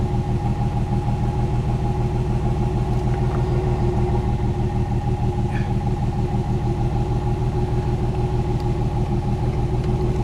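A 1969 Mercedes 280SE with an engine tick idles loud and steady at close range, its even rumble unbroken for the whole stretch with no voices over it.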